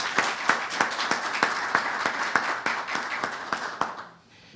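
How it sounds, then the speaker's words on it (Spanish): A small audience at a legal jurisprudence session in Mexico City gives warm applause, with regular, distinct claps in a steady rhythm that fade out at the end. "a quien les pido por favor que le demos un caluroso aplauso"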